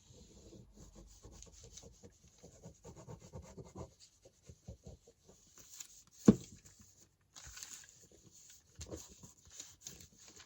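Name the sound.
burnishing a folded paper lunch bag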